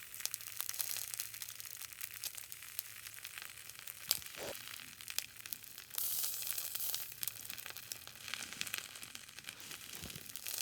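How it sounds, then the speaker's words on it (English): Bacon sizzles in a paper bag over an open fire: faint, steady crackling and hissing with scattered pops, quiet and close, with no talk. "I can hear it sizzling. So I guess the bacon is getting hot enough."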